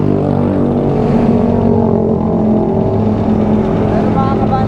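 A motorcycle engine with a worn block and piston running after being started, a loud continuous low rumble close by with people talking over it.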